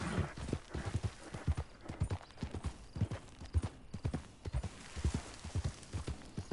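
Rhythmic clip-clop of a horse's hooves in the video game Red Dead Redemption 2, steady repeated hoofbeats at a moderate pace, fairly close and clear, with no talk over them.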